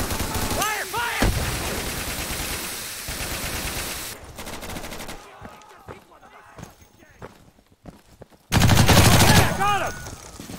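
Automatic gunfire in the Insurgency tactical shooter game, bursts of close rapid shots separated by quieter stretches, with players shouting over the action and a loud final burst.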